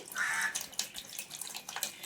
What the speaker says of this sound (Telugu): ఇప్పుడు ఒక స్ట్రైనర్తో వడపోసుకోవాలి మనం